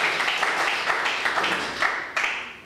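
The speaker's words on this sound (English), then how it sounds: "Can you clap for the Lord?" A church congregation claps in a steady, even rhythm over a sustained hum of organ or crowd sound, with a sharper clap near the end.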